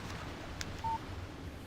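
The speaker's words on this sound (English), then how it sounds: "Text message from Barry." Short electronic beep of a phone text message alert in the Alan Wake video game, a single brief clean tone over a faint low background hum.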